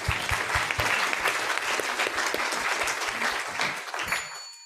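Workshop attendees at an animal welfare emergency-response session break into lively applause, a close, dense burst of clapping that tapers off at the end.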